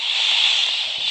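Fire burning inside a house in the Roblox game Brookhaven, a loud steady crackling hiss that fills the whole short stretch without a break.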